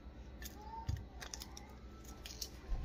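Knife cutting an onion on a board while preparing spaghetti alfredo, giving a few sharp, close taps and scrapes spread unevenly over a quiet room, with no talk.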